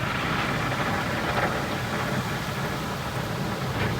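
Water from the rinse arches of a MacNeil car wash tunnel sprays steadily over a car, a loud, dense, continuous hiss and rumble heard from inside the vehicle.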